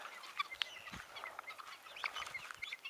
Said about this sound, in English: A little happy throng of guineas.